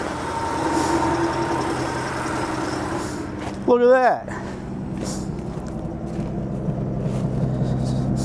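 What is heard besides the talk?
1967 Ford F100 engine running through dual tip exhaust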